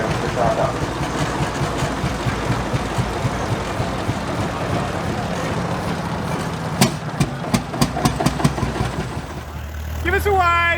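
A 1938 McCormick Deering 014 orchard-model tractor engine running at a vintage field day, a steady low chugging rumble with rapid knocks toward the end, mixed with outdoor crowd noise.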